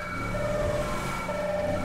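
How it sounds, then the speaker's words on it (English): Police sirens wail in a video game, a steady electronic siren tone sounding at moderate level, fairly faint and continuous over a short stretch. "You hear sirens? I have sirens."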